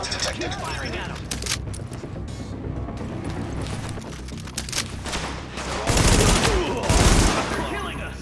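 Sustained gunfire crackles through a firefight in The Division, with rapid automatic bursts and heavier booming impacts near the end, while people shout over the shooting.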